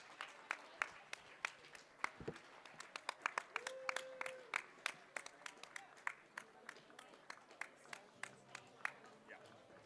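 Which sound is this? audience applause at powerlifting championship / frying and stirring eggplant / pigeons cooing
audience applause at powerlifting championship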